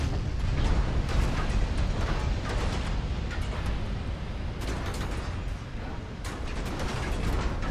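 Naval gunfire in Ultimate Admiral: Dreadnoughts as 1940s battleships trade salvos, a continuous rumbling roar of distant heavy guns and explosions with scattered sharper reports throughout.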